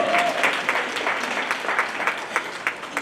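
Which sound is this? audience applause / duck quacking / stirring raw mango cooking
audience applause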